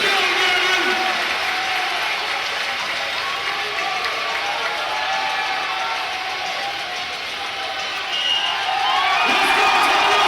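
Live crowd at a strongman deadlift event, the 2023 Shaw Classic 1,100 lb deadlift, cheers, whoops and applauds in a steady loud roar that dips briefly and then swells again near the end.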